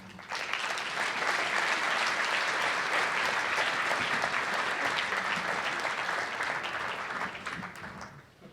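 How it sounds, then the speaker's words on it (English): A large crowd applauds steadily for several seconds, a dense wash of clapping that fades slightly toward the end. "So if you can give a round of applause for Jim."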